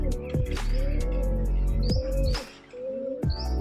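A pair of Kalanka pigeons, a cock and a hen, call close by in soft repeated coos and short chirps, several bursts over a few seconds with no voices.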